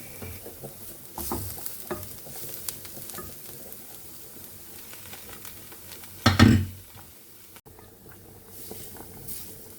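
Soft stirring and quiet sizzling, then a sudden loud burst of hissing sizzle as hot fried roux hits a pot of meatball soup, fading back to quiet bubbling.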